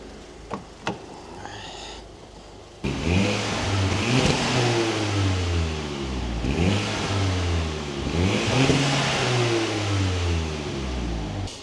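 A Mk6 Volkswagen Golf GTI Edition 35 engine revs hard in repeated surges, rising and falling over a low, fairly mild stock exhaust note, after a few short clicks and a quiet idle.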